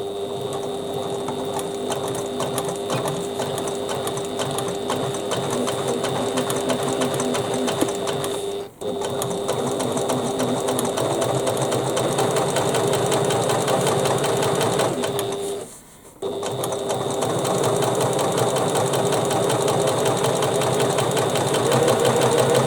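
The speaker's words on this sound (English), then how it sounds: "Now we get one of our lining contrast bands, which we're going to sew across the top at 1/4 inch seam allowance." A sewing machine stitches a lining contrast band across the top of a bag in a close, continuous, rhythmic hum, broken by two brief pauses.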